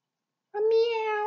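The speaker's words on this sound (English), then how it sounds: "A meow. It's a cat." A cat lets out a single clear, drawn-out meow after a brief silence, close and alone.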